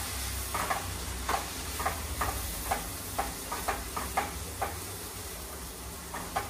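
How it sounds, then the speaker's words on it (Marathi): Spices are stirred in a sizzling pan while chicken cooks for lasooni methi chicken, with a soft frying hiss under repeated close, rhythmic scrapes of the spoon. "आता हे सर्व मसाले आपण मिक्स करून घ्यायचे आहेत"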